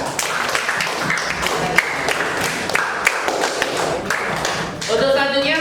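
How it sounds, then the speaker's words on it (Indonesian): Applause and scattered clapping from a class of students for a student group after its presentation on hydroelectric power, a steady dense patter of claps filling the room throughout. "tepuk tangan sekali lagi untuk kelompok 4"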